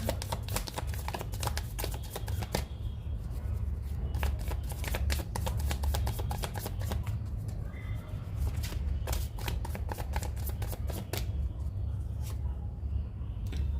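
Tarot cards shuffled in quick riffling bursts, close and crisp, repeating through the whole stretch with short pauses between rounds.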